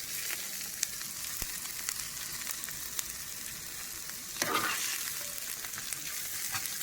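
Ivy gourd frying in a pan with garlic, a steady soft sizzle throughout, with a brief louder scrape of stirring midway, quiet and close, no talking.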